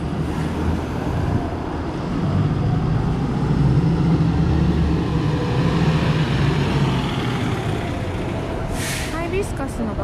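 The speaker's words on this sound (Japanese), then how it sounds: "すごいね、バスがほら、上がったり下がったりするんだね。" A large city bus idles and hums loudly at a Waikiki stop as it kneels and rises, a steady low engine rumble with a hiss of air near the end, while people talk nearby.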